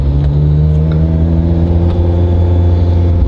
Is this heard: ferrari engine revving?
yes